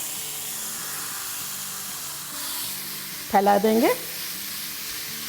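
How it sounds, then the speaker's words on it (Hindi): Marinated chicken hits a hot pan and sizzles with a steady, even hiss throughout, while a voice speaks briefly over it. "तो अब जो चिकन हमने मैरिनेट की थी वो डालेंगे"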